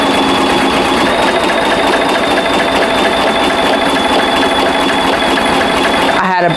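An embroidery machine stitching a travel bag, a loud, steady, rapid mechanical whirring and clatter that runs continuously, cutting off abruptly near the end, with no clear talk over it.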